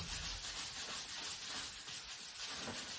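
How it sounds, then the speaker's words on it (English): A dented UPVC surface is sanded flat by hand, making a steady, close rasping rub that continues without pause at low volume. "sand that area completely flat"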